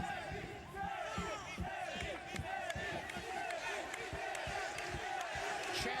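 Partisan crowd at a K-1 kickboxing Grand Prix event in Bucharest roars and chants for a fighter, a dense continuous wall of massed voices with rhythmic shouting pulses, while a commentator talks over it.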